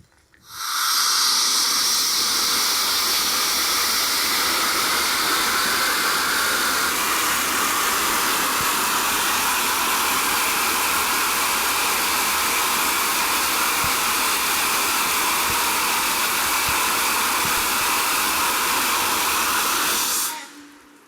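Compressed CO2 vents in one long, loud, steady hiss lasting about twenty seconds, starting abruptly and cutting off sharply at the end, with the tone shifting slightly partway through.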